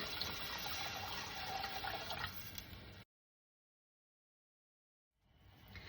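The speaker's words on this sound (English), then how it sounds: "Now at this point, I'm going to add the water." Water pours steadily into a pot of softened onions, a loud continuous splashing rush for about three seconds, then silence, before the pouring resumes near the end.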